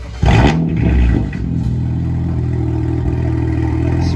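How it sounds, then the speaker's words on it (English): A full bolt-on BMW 335i engine warm-starts nearby with a brief cranking burst and loud flare, then settles into a steady, rumbling idle that carries on to the end. "here's a little first warm start"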